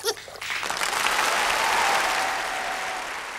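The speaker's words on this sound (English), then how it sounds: "joined in the enormous applause" Enthusiastic audience applause at the end of a concert swells quickly and continues as a dense, sustained clapping that slowly tapers.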